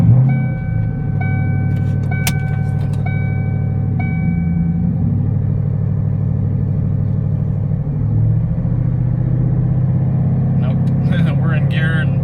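A 1998 Ford Mustang Cobra idles in gear with its rear wheels raised and spinning, a steady low engine drone and rumble running throughout, with brief clicks and tones near the start and end.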